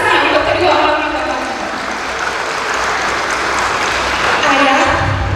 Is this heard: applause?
yes